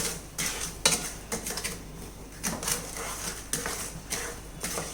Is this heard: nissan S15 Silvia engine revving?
no